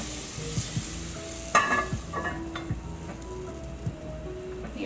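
Fried tofu sizzles steadily in hot oil in a pot, with intermittent scraping and clanking as it is stirred, loud and close throughout.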